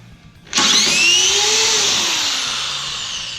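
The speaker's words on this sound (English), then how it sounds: "I am really jacking this drill bit up." A power drill abruptly starts up and runs at high speed with a loud whine, the pitch sagging slightly as the bit bites into the material.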